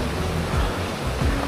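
Rushing water of the Madakaripura waterfall gives a dense, steady roar of broadband noise, constant and enveloping with no voices over it.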